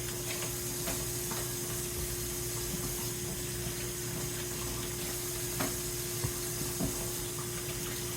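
Limes rinsed under a running tap, a constant wash of flowing water with a steady hum and occasional soft knocks of fruit, close and continuous with no talking.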